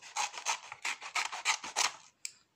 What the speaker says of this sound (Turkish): Ve şu kısmı mesela keseceğim